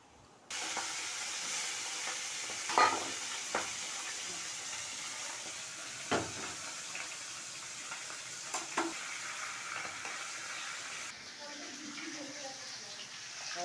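Lentil dal tempering in hot oil in a home kitchen, a steady broad sizzle running throughout with a few sharp clinks and scrapes of a utensil, close and moderately loud, dropping slightly near the end.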